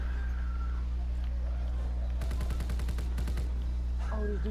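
Rapid bursts of video game gunfire aimed at a zeppelin in The Final Reich, a quick rattling volley of about a second over a low steady hum.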